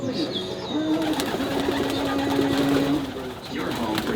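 Young racing pigeons coo steadily inside a loft, soft and close. A voice is heard briefly alongside the birds.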